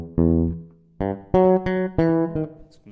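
Electric bass plays a short jam phrase in E, a few plucked notes with clear gaps between them, close and clean with no talking over it.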